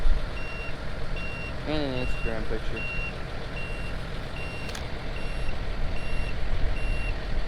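A silage chopper's warning beeper sounds in a regular repeating pattern of short tones over a running engine, while someone talks briefly at the start.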